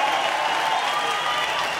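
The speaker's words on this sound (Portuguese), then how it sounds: "palmas pro sequela aí" An audience applauds at a lively casual gathering, a dense, even wash of clapping that holds steady for nearly two seconds without talk over it.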